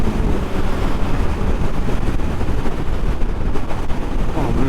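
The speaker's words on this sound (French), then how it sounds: "Je sais pas si tu vas entendre grand chose avec le vent là." Strong wind roars steadily over the microphone while riding a 2025 Kawasaki Z900 motorcycle, a loud, continuous buffeting rush that covers the engine and any other sound throughout.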